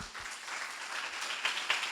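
Church congregation applauding during a service, a brief wash of many hands clapping at moderate loudness with a few sharper claps standing out near the end.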